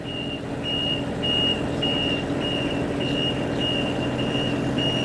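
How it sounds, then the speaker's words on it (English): A reversing truck sounds its backup alarm, a steady run of evenly spaced high beeps about twice a second, over a loud, constant engine rumble, with no voices. "Sorry about the reversing sound as well, guys. And how loud the truck is."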